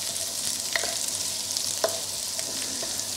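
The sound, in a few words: chicken stir fry sizzling in a wok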